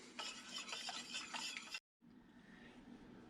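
Chicken curry stirred in a pot on the stove, a steady scraping and swishing that runs close and clear, breaks off in a brief silent gap, then resumes more softly.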